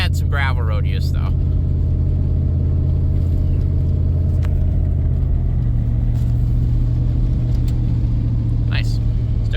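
A 2002 Dodge Durango SXT with 294,000 miles runs and drives, its loud, steady low engine rumble holding throughout and dropping slightly in pitch midway, with faint scattered knocks over the drone.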